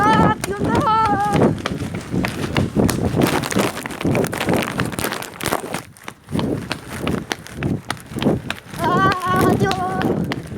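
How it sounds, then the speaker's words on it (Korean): Quick running footsteps of a person in the rain, hurried and close, thudding steadily under frequent talking and breathy speech throughout. "그러면 저 뛰는 소리 들었습니까?"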